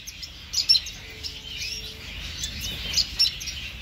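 A pair of pet parrot finches chirping among small exotic finches: light, high tweets in short bursts, moderately close, with no talking.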